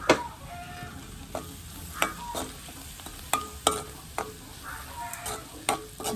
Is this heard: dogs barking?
no